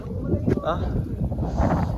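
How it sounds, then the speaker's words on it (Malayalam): Strong wind on a hilltop near Thirumalai temple buffets the microphone with steady low rumbling gusts, heard together with people talking nearby. "ഭയങ്കര കാറ്റ് ഇവിടെ"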